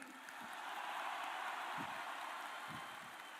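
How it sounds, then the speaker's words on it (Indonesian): An audience at a political rally applauds a speech, a steady, dense wash of clapping that sounds like heavy rain, with a few low voices faintly underneath. "Tepuk tangannya kurang semangat."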